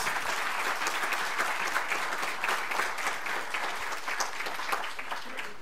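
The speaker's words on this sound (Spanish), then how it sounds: "Le damos un aplauso a la profesora Flitzblitz." An audience at a university faculty debate applauds a professor, steady crowded clapping at moderate volume, continuous throughout.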